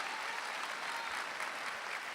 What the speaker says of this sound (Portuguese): Oh, aplauda mais forte.